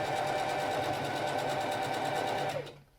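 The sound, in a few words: sewing machine stitching a tote bag seam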